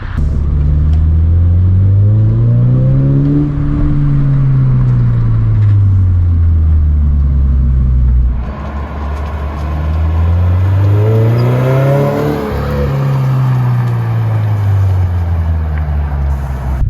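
A 2022 Subaru BRZ with an HKS Spec-L aftermarket exhaust rumbles deep and loud, rising and falling twice as the engine revs up and eases back down.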